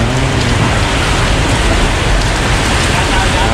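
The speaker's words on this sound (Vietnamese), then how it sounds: "hôm nay mưa quá trời mưa" Heavy storm rain pours down in Saigon during a typhoon, a loud, dense, unbroken hiss of downpour that fills the whole stretch, with no voices standing out.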